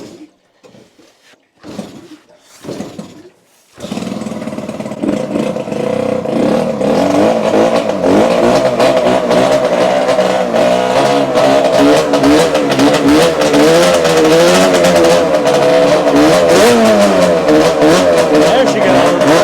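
A Yamaha RZ350 motorcycle engine cranks a few times, then starts. It settles into a loud, continuous two-stroke running note with rising and falling revs, heard close up with voices faint underneath.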